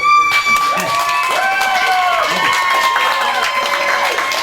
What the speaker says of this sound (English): give his wife a round of applause